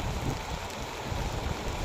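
Steady rain pours down, a dense, even hiss of drops striking surfaces, close and continuous with no voices.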